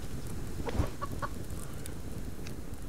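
A few soft, brief clucks from a chicken in the survival video game Subsistence, over a steady low background hum, quiet and somewhat distant.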